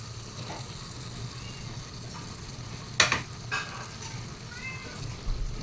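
Beaten egg poured into bitter melon (ampalaya) frying in a pan, a steady soft sizzle with a brief louder hiss and a few light clinks, quiet and close.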